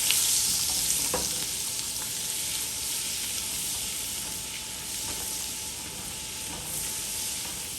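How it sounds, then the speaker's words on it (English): Butter melting into oil in a pot for Guyanese spinach rice, a constant broad sizzle and hiss with a few light clinks of the pot being swirled, close and even throughout. "I'm also going to add in my butter. You want to spin this around and make sure that it is melted."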